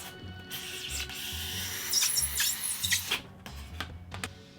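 Cutting a 6 by 6 inch square from a 1-inch sheet of XPS foam, a steady scraping, rasping drag of the blade through the foam lasting several seconds, close and moderately quiet with no voices.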